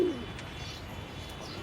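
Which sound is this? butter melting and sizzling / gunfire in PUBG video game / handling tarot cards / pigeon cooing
pigeon cooing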